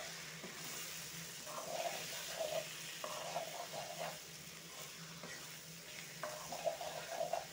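Taro root (arbi) pieces tumble into hot masala and fry with a steady low sizzle, with a few light stirring scrapes and clatters from the pan and no voices.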